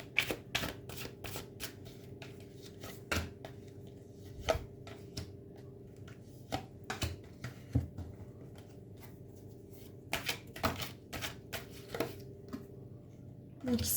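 Tarot cards being shuffled by hand at close range, a series of crisp riffling and slapping bursts in irregular rhythm, separated by short quiet gaps.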